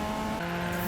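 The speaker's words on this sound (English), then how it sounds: "This is drifting." A car drifts in Need for Speed (2015), its engine droning steadily with a sustained tire squeal over one continuous second.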